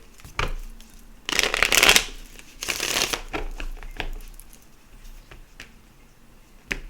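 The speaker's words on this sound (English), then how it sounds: "Give it another shuffle here." Tarot deck shuffled in two loud, close riffling bursts followed by softer taps and slides of the cards settling, with no voices.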